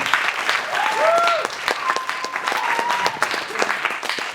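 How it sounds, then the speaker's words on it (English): Applause from a school audience at a middle school performance, a full, sustained wash of clapping at close range, with brief tonal squeaks or whistles rising over it partway through. "Round of applause for them."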